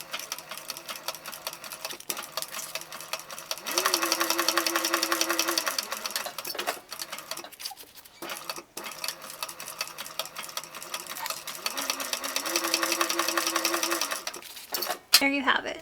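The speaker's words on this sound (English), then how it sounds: "going to sew these slanted edges with a 1/4 inch seam allowance" A sewing machine runs in bursts as a backpack's slanted edges are stitched with a quarter-inch seam, whirring steadily with pauses and brief stops between runs.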